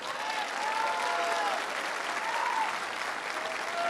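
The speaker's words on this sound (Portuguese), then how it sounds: "Salve de palmas para ele!" Steady applause from a church congregation welcoming a preacher at a Catholic afternoon worship gathering, a dense continuous wash of clapping that holds evenly throughout, with faint sung or whistled tones drifting above it.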